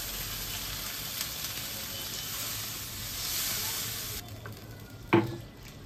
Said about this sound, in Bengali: এবার আমি আঁচ কমিয়ে তার মধ্যে জল দিচ্ছি।